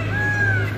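A peacock calls out in a park: a single brief, drawn-out tonal cry holding steady, heard over a low constant background hum.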